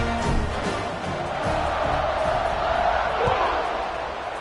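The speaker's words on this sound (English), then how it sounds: "this crowd is buzzing after that last score" Football stadium crowd buzzing and cheering after a score, a dense, steady roar of many voices filling the whole stretch with small swells, heard from within the stands.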